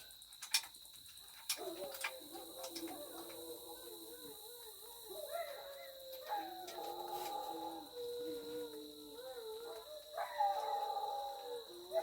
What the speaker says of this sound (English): our dogs think they found something serious. They're trying to make the coyotes realize that they're big, scary dogs.